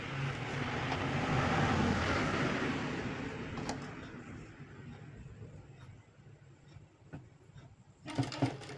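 A sewing machine runs steadily while stitching a blouse shoulder seam, its loud continuous whirring tapering off after a few seconds, followed by a few quieter clicks and a brief burst of handling noise.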